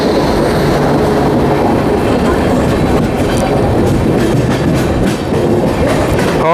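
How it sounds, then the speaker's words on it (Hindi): Steady loud rolling rumble of an Indian Intercity passenger train between Jabalpur and Raipur, hauled by a WAP-7 electric locomotive from Bhilai shed, heard from on board with continuous wheel and rail clatter throughout. "WAP-7 लोकोमोटिव भिलाई शेड का, जो कि जबलपुर रायपुर इंटरसिटी के साथ आया है।"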